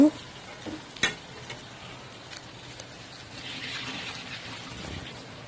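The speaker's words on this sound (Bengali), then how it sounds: "এখন এগুলো আরও দুই মিনিটের মতো ভেজে নিব" Onions frying in a pan with cubed tomato and potato, a soft steady sizzle with a few sharp stirring clinks near the start and a brighter hiss building toward the end.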